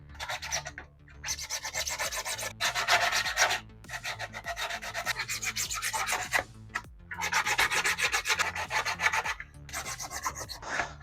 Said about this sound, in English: I'm using some 80 grit right here, and we're just going to sand down the edges